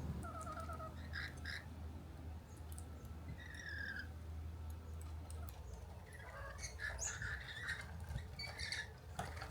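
A flock of rainbow lorikeets chatters and squawks at a backyard seed feeder, with repeated high screeches and chirps scattered across the scene over a steady low background hum, fairly faint and without talk.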